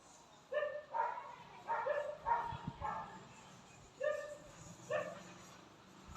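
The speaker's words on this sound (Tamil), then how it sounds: "சேர் மூவ் ஆகுனே நாய் ஒழிக்குது இங்கிருந்து வெளியிருந்து." A dog howls and whines outdoors in a series of short, wavering cries with pauses between them, heard from a moderate distance.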